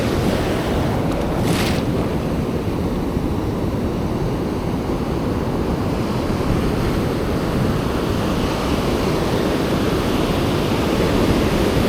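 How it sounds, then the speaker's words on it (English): Ocean surf rolls and crashes continuously onto a beach where someone is fishing for surf perch, a loud steady wash of breaking waves with wind buffeting the microphone and no talking. "That right there is a big wave coming."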